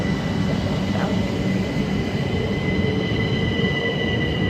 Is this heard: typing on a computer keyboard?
no